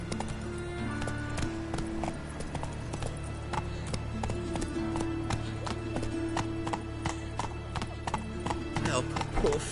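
Roach, Geralt's horse in The Witcher 3: Wild Hunt, gallops with a close, steady, rapid hoof rhythm that continues throughout, over a low ambient drone, while a voice speaks over it.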